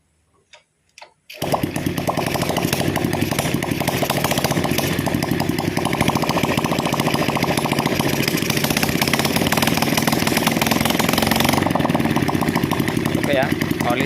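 A Honda Vega R motorcycle engine, bored up with a Vario 125 piston, starts after a couple of short cranks and then runs steadily and loudly, with a raspy, buzzing idle that continues to the end.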